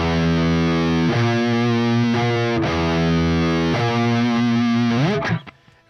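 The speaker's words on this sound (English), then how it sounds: "so here's how a tritone sounds" Tritone interval played on a heavily distorted metal electric guitar, loud sustained chords struck several times in a steady rhythm, ending with a slide and abrupt mute.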